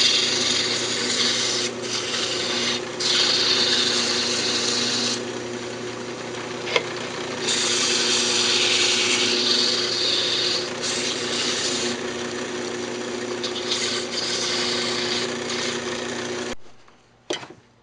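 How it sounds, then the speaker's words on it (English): Sandpaper rubs against the spinning interior of a wooden lidded box on a lathe turned down to low speed, a steady close rasping hiss with several swells in intensity over the motor hum, stopping abruptly near the end. "just sand up the inside real quick"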